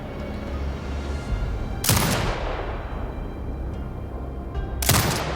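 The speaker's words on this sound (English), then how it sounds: "Exit binocular mode and command the turret to fire." Two loud, sharp sniper turret shots from Sniper Ghost Warrior Contracts 2 crack a few seconds apart, each trailing off in a long echoing tail over a steady rumbling outdoor ambience, with no one speaking.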